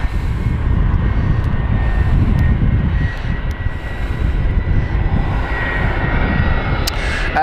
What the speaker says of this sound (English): The plane behind me you can hear is EasyJet.